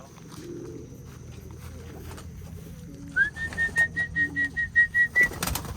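Pigeon loft where a racing pigeon returns home, with a series of about eight rhythmic whistling or cooing pulses rising clearly over steady background noise in the second half.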